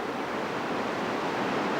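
Steady broadband rush of falling water, continuous and fairly loud, from a small waterfall close by in Canada, with no voices.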